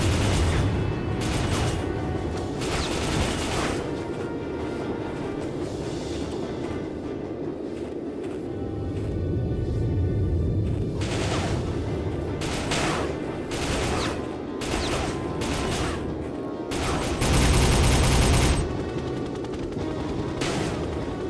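Gunfire in the PC first-person shooter Soldier of Fortune: bursts of rapid automatic fire and sharp shots, loud and close, coming in clusters with brief gaps of mechanical background noise between them.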